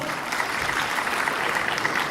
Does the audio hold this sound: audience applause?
yes